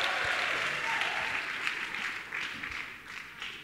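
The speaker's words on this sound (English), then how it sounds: "Give Jesus an applause" Applause from a church crowd, a fairly quiet, steady roar of many hands clapping at once that holds throughout with slight swells.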